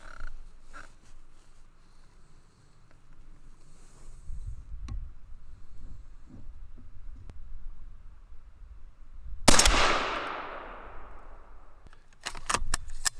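A 6mm ARC rifle fires one sharp, loud shot at a range, with a long ringing decay after the crack and some quieter handling noises before and after it.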